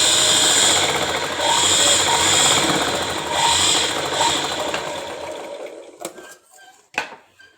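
An electric sewing machine stitches old cloth in a loud, rapid mechanical whir with rhythmic pulsing for about five seconds, then stops, leaving a few light clicks and handling knocks.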